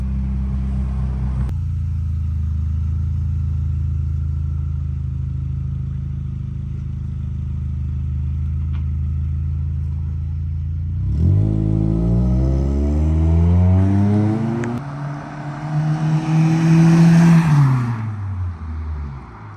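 A Scion xB fitted with a STRUP exhaust idles with a deep steady drone outside a house, then revs and pulls away past the listener, the engine note rising and swelling loud before fading.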